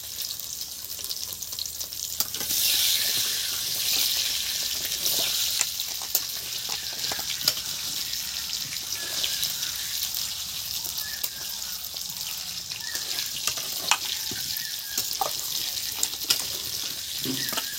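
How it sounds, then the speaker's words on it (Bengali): Big potato chunks frying in oil left from cooking large fish, a steady loud sizzle throughout with occasional stirring scrapes and clinks, no voices. "মাছের তেলে আলু ভাজা"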